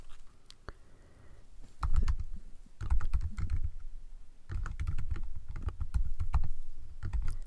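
Code being typed on a computer keyboard, with rapid clusters of close, clattering keystrokes broken by brief pauses, no talking over them.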